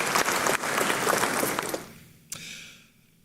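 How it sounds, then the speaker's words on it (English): An audience claps at a law school honorific lecture in a hall, brisk applause that fades out after a couple of seconds, followed by a lone late clap. "Shall we do a big round of applause?"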